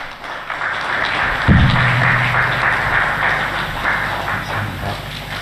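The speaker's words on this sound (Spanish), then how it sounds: "El aplauso de los obispos congoleños que han recibido al Papa" Congolese bishops applaud the Pope at a welcome gathering at the CENCO headquarters in Congo, a steady wash of clapping filling the room throughout, with a brief low thump near the start.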